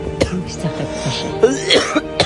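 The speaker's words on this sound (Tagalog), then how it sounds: "Inuubo." Someone who is ill coughs several times over a couple of seconds, close and fairly loud, with a faint throat-clearing quality and some background voices or noise.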